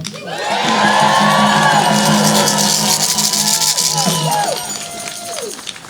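A rally crowd cheering and whooping loudly, a dense swell of shouts and whistles that holds for several seconds before tapering off.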